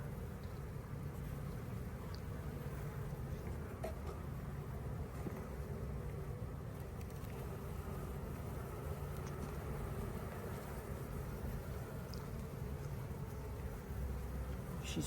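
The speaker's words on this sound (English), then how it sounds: "tell just by the sound too of the hive that they're a little more agitated with us going into the hive." Agitated honeybees buzz steadily from an opened hive during an inspection, a dense, continuous drone close by with no talking.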